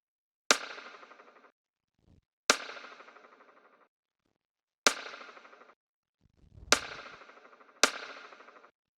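Five sharp metallic percussion hits, each followed by a rapid buzzing flutter of short repeating echoes that fades out, with pauses between strikes.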